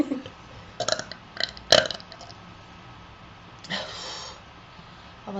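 Several short burps from a girl in a two-girl burping competition, including one sharp louder belch, then a longer rougher burp, with little talking around them.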